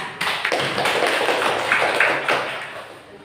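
A classroom of students gives a round of applause after a group presentation, a dense, even burst of many hands clapping close by that holds for about three seconds before tapering off.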